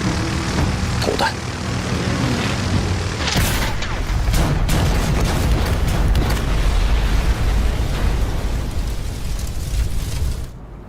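Bombs dropped from attacking aircraft explode over an airfield, a dense wash of heavy booms and rumbling blasts under droning engines, with sharp bursts layered throughout before it cuts off abruptly.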